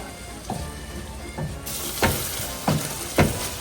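Ragu paste stirred and sizzling in a hot pan, steady frying hiss with about five louder scraping strokes of the spoon spaced through the stretch, no talking.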